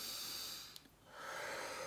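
A person breathes during a breathing exercise: a long, soft airy inhale, a short pause with a faint snort, then another steady breath, close to the microphone and with no talking.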